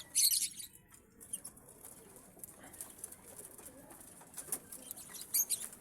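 Pet pigeons coo softly in soft low bursts, with sharper flutters and bright clicks scattered around, fairly faint and close, no talking.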